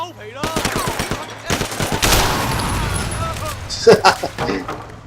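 Rapid bursts of rifle gunfire in the video game Sleeping Dogs, a quick series of sharp cracks followed by a denser volley, with someone talking over the shooting.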